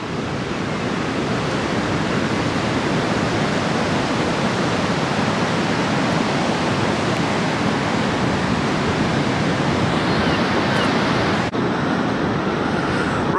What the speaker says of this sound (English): Nothing quite like hearing the waves